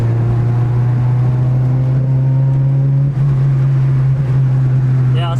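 A car engine on E85 fuel holds a steady, loud drone in fourth gear, pulling under load and running slightly lean, with faint road noise and no other sounds over it.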